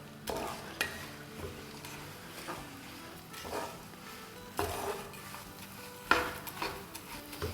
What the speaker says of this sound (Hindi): अब इसको उलट पुलट के हमें अच्छे से क्रिस्पी हो इस तरह से फ्राई करना है